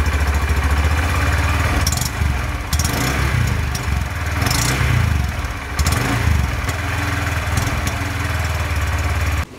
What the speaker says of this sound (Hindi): अब मैं आपको सुनाने जा रहा हूँ इस बाइक की आवाज़